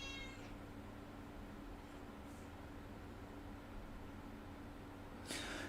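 A cat meows faintly in a quiet room, one short meow at the start, another soft cry midway and a louder burst near the end, all over a steady low hum.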